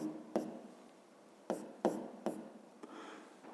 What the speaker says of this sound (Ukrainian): Записуємо тоді, пишемо зірочку.